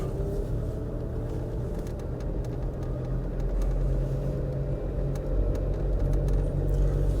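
A diesel Land Rover Discovery TD5 or Range Rover pulls away with a steady, close engine rumble and whirring drone that swells slightly toward the end, with no voices.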